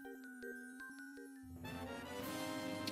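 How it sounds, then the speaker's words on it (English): A small bell item from the game Zelda: A Link Between Worlds jingles in a short chiming tune of tinkling notes, followed by swelling game music. "So, we have a bell"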